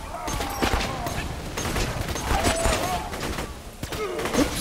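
Gunfire in Borderlands 2 from a weapon that shoots two bolts at once, heard as a busy stretch of sharp shots and thuds over game noise, with a voice speaking in places.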